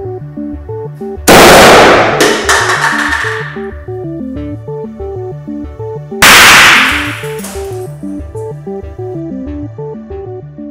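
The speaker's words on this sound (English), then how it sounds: "we're going to be having some fun exploding some food cans and some eggs" Two loud, sharp explosive bangs from food cans or eggs set off with fuel-air mixtures, each with a long ringing decay, set over a steady repeating musical backing track.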